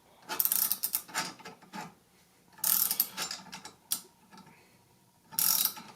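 A puller being tightened onto the armature of a Thunderbolt Model 2 Chopper, with bursts of close ratcheting clicks separated by quiet pauses and a single sharp tick.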